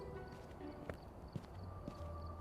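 Player footsteps while sprinting in the horror game Phasmophobia: a few spaced, dull thudding steps over a steady low hum and ambient background.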